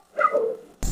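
A dog gives one short, close bark or yelp that trails into a whine, followed by a sudden loud noise burst; no speech.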